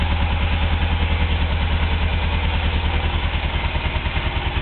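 A 1983 Suzuki GS450L motorcycle engine runs steadily just after a cold start, with a loud, even, rapid exhaust pulse and light mechanical clatter, close by and alone without talk.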